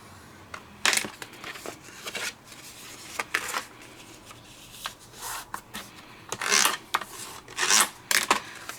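Cardstock is scored for a handmade card with a scoring tool: repeated sharp scraping and rubbing strokes, close and fairly loud, in irregular bursts.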